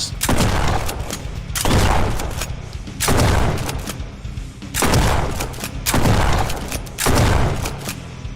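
Repeated bursts of video game gunfire in a shooter with buyable upgraded guns, heavy booming volleys roughly every second or so, loud and close, with no talking over them.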